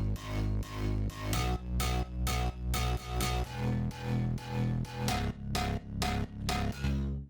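Ryos bass, a layered electronic bass synth patch in a dance track, pumping in loud rhythmic bursts about twice a second with bright upper layers over heavy low notes, no voices.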